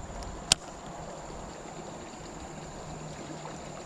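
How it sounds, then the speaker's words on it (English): A small creek feeding into the Savannah River, giving a steady, gentle trickle and stream wash throughout, fairly faint, with one brief sharp click near the start and no talk. "This right here is what you want to find. It is a creek"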